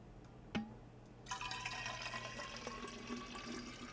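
Liquid is poured in a quiet room: after one sharp knock, a steady, close trickle begins and runs to the end.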